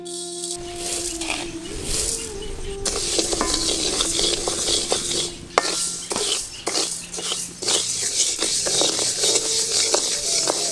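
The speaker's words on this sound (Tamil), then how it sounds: "இப்ப கொள்ளு பருப்பை வறுக்க ஆரம்பிச்சிடலாம்." Horse gram lentils are dry roasted in a pan with constant scraping and stirring, the seeds rattling and clicking against the metal in a busy, close, continuous texture.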